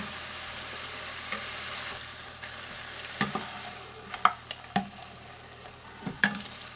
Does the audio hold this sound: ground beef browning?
yes